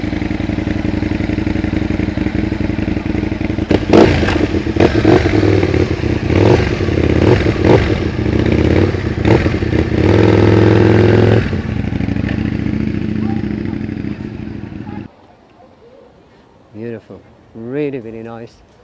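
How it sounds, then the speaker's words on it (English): A close Aprilia RSV 1000 sport motorcycle idles and revs loudly on a town high street with clattering mechanical noise, then cuts off, leaving quiet street sound and a brief voice at the end. "Beautiful bike. RSV 1000, guys."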